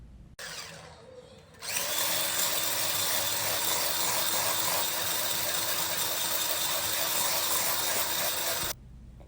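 A body butter mixture is whipped, with a loud, steady motor whir running unbroken for about seven seconds after a quieter start, then stopping abruptly.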